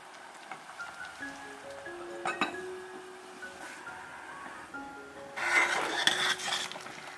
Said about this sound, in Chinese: 改大火，把板栗放进来继续焖